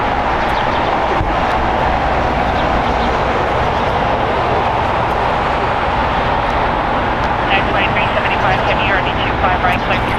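A 23-year-old Delta Boeing 737-800 departs LAX for Las Vegas, a steady, loud jet roar filling the whole stretch without letting up, with faint voices underneath.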